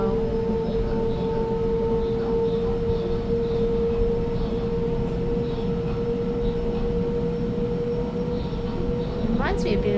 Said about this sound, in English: Oops, sorry, train just went past.